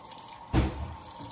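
Raw oxtails are rinsed under a running kitchen tap, with a steady water hiss that swells into a sudden splash as the meat goes under the stream, then a continuing close wash.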